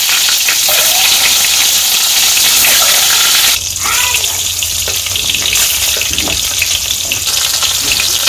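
Cumin seeds frying in hot oil in a wok, a loud continuous sizzle with a brief shift midway as more goes in, steady and close with no talking.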